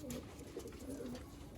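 Soft, low cooing from a pair of Malwai pigeons, a male and female kept for sale near Dhamua station, repeating in gentle rounded phrases close by with no talk over it.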